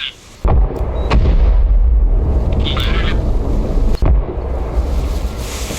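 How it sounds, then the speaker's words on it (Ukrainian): Artillery fire in the Arma Reforger war game: a loud, heavy boom opens the clip, followed by further blasts and rumbling amid wind-like noise, with a sharp crack near the end. "Так, це вже артилерія почала працювати."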